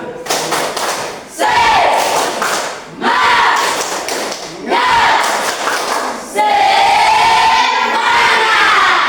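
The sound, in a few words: class doing a rhythmic spirit clap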